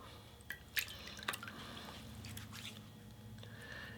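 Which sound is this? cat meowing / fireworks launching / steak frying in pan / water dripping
water dripping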